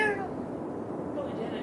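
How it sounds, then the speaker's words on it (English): A cat meows briefly near the start, with a game's ambient background sound running throughout. "I thought I heard a"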